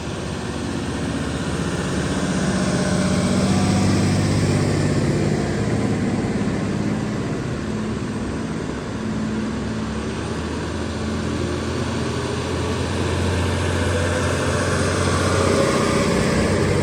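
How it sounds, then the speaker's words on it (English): Heavy dump trucks idle with a steady low diesel rumble, then pull away as the engine drone swells and holds, loud and continuous with no talk. "Trucks are leaving."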